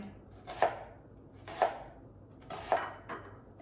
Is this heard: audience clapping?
no